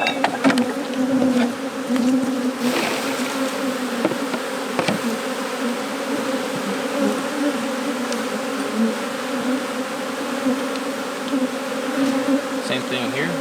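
Honey bees buzz around an open hive during a spring inspection, a dense, continuous close hum with individual bees droning past, a few faint clicks and handling noises underneath.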